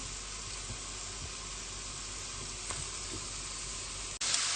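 Steady, faint sizzling of apples frying in oil in a pan, a constant hiss with a small click near the end.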